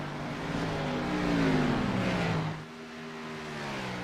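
Race cars lap a racetrack, their engines droning and shifting pitch as they pass close by. The whine swells loud in the middle, then eases as another car carries on in the distance.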